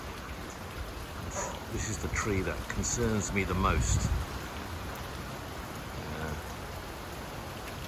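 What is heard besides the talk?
rain falling during a super typhoon in the Philippines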